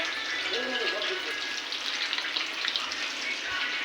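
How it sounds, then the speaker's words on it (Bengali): Fish frying in a home kitchen, a steady broadband sizzle filling the whole clip at moderate level, with faint background voices and household sounds beneath it. "এই যে মাছ ভাজা হচ্ছে"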